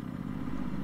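Quad bike engine in Minecraft, a steady low rumbling putter running close and unbroken for under a second.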